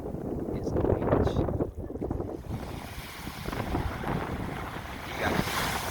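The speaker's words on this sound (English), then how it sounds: "This, my friends, is the beach." Surf washes in steadily at Kuta beach, Lombok, Indonesia, with gusty wind buffeting the microphone, the roar of waves rising and falling near the shore.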